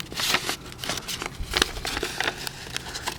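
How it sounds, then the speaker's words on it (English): Scissors snip out a paper shape for an Elmer elephant collage, close, with crisp irregular cutting and rustling paper. "I'm just going to cut him out"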